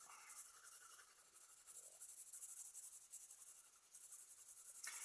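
A graphite pencil shades across paper for a still-life drawing, producing a faint, continuous fine scratching hiss in soft repeated strokes, very quiet and close, with no voices.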